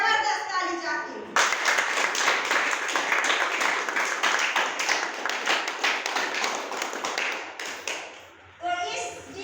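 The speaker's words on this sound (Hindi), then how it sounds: "इन सभी हस्तियों के लिए जबरदस्त ताली चाहती हूँ।" An audience claps enthusiastically for honoured guests in a sustained, dense round of applause lasting several seconds, opening and closing with a voice speaking.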